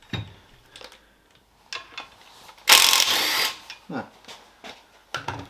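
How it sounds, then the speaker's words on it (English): A bolt being wrenched out of a 6-speed C60 car transmission, heard as a few close ratchet clicks and metallic clanks with one louder, sustained burst of tool noise; a voice speaks briefly between them. "I just need to remove one bolt first."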